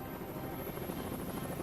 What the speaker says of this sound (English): Today, a squadron of Marine helos are deploying to meet the President at a school in New Jersey.